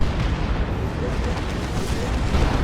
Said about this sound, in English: Exploded something there. Definitely exploded something.